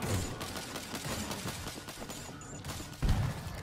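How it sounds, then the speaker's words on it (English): Machine gun fire in World War Z rattles as rapid repeated shots at moderate loudness, with a heavier thump near the end and no talking. "I got my machine gun up here."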